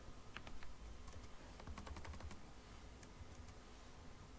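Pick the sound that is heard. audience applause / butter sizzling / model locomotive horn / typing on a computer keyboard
typing on a computer keyboard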